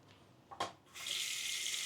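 Water gushes from a hotel bathroom faucet in Ilocos Sur, starting after a brief clunk of the handle and then running as a steady, strong hiss close by, with no talking.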